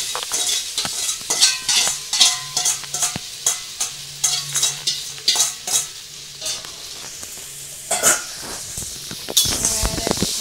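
Chow mein fries in a pan in a village kitchen, stirred with quick, rhythmic metal scrapes and clatters over a bright, steady sizzle, close and loud.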